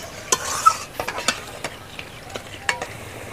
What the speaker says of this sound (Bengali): এই দুধটার মধ্যে মা পাটিসাপটার গোলাটা গুলবে।